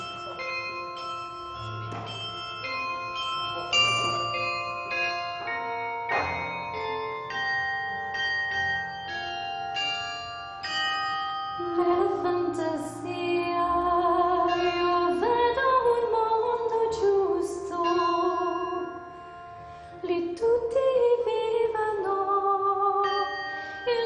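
Bells at the Paccard bell foundry are played as a melody, with clear struck notes ringing and overlapping into long, shimmering sustains that fill the space, loud and close with no talking.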